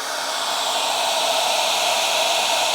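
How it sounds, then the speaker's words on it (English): A hair dryer blows steadily at full power, a constant loud broadband whoosh with no pauses, running off a Bluetti AC200L portable power station. "I know the hair dryer is one that uses a lot of energy, so let's turn that back on"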